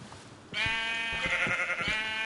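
A Minecraft sheep bleats steadily, a sustained wavering cry that starts abruptly and holds loud over soft low thumps.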